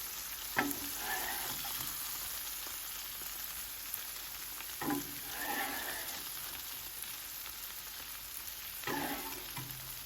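Meat and onions for cheese steak sizzle steadily on a Blackstone griddle, a dense close frying hiss with a few spatula scrapes breaking through.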